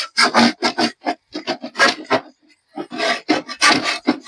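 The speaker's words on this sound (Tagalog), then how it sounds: "Kaya mapurol na yung ating lagari." Rhythmic rasping strokes of a dull handsaw cutting through coconut lumber, a quick run of back-and-forth pulls, a brief pause, then more steady sawing close by.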